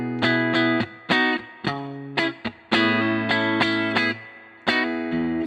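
A Fender Vintera Telecaster electric guitar is played through distortion and effects, with loud, sharp chord stabs and short riffs that ring and cut off in a choppy rhythm, with no voices.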